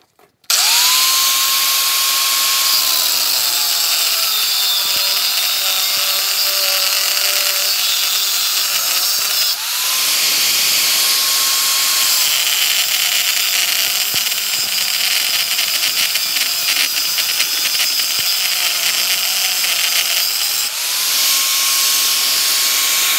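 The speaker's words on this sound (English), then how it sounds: "I'm going to take the angle grinder and cut off these" Angle grinder cutting through a cast metal piece, spinning up to a loud whining grind three times in a row, each run rising in pitch and then settling into a steady, harsh cut with no talking.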